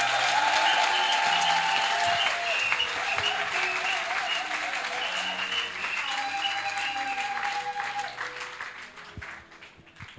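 A congregation at a church service applauds steadily for about ten seconds, with dense clapping that tapers slightly toward the end and no speech over it.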